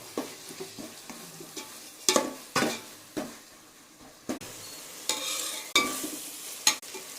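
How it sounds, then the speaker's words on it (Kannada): Egg biryani masala with a spoon of yogurt frying in a pan, a spoon stirring and scraping in repeated sharp strokes over a steady low sizzle, close and clear with no talk. "1 ಟೇಬಲ್ ಸ್ಪೂನಷ್ಟು ಮೊಸರು ಹಾಕ್ಕೊಂಡು ಇದನ್ನು ಚೆನ್ನಾಗಿ ಫ್ರೈ ಮಾಡ್ಕೋಬೇಕು"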